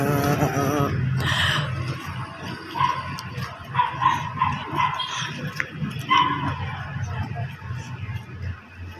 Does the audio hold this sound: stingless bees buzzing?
no